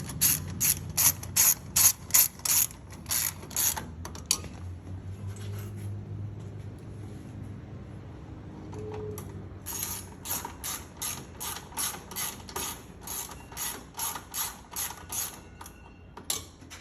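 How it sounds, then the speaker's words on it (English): A 1/4 inch hex driver ratchets rapidly while removing the support brackets on a GE gas range, model JS760SEL2SS, during a valve replacement; bursts of close clicking come at the start and again toward the end, with a quieter stretch between. "The support brackets with a 1/4 inch hex driver."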